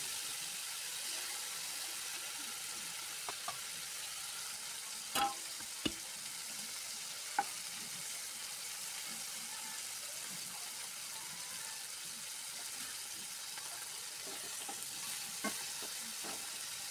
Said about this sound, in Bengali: দেখো আমার এক পিঠটা ভালো করে ভাজা হয়ে গেছে